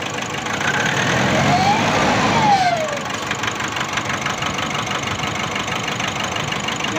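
A Nissan Navara DDTi diesel engine with low power and black smoke is revved once, rising to a loud rough roar and then dropping back to a steady knocking idle close by.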